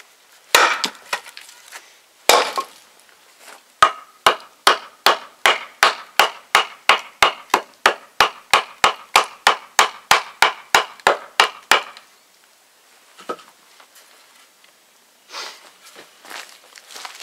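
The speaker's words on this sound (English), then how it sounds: "starting to split that wood right away." A knife is batoned through wood: a long run of about twenty sharp, evenly spaced knocks, close and loud, with a few scattered strikes before and after.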